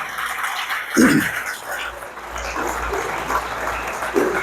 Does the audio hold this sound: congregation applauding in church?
yes